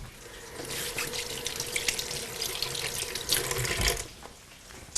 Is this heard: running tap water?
yes